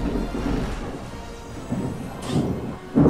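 Thunder rumbles through a steady rainstorm, a low continuous roll swelling at intervals and ending in a louder, closer crack, with rain hiss underneath throughout and no talking.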